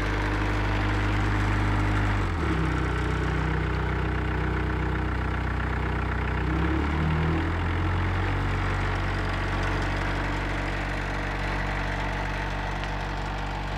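The Kubota diesel engine of a 2015 Carlton SP4012 stump grinder idles steadily at a raised speed, a loud, close, even rumble with a brief dip and recovery partway through.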